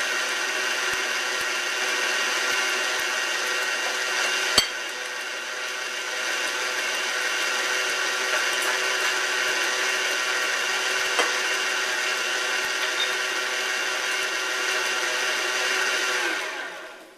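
An electric mixer whirs steadily through red velvet cupcake batter with added red food coloring and vanilla. The motor hum is close and continuous, with a couple of brief knocks, and winds down at the end. No one speaks.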